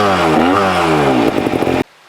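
A 2024 GasGas 250 GP trial motorcycle with a low-compression head and heavy flywheel runs steadily close by, pitch dipping and rising briefly before cutting off sharply near the end.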